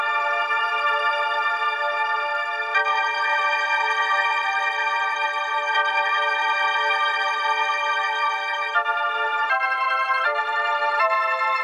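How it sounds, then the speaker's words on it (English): Omnisphere Holy of Holies pad sustaining a slow chord progression, bright and steady, each chord held for several seconds before shifting, with quicker changes near the end; no voices. "It's the Holy of Holies pad"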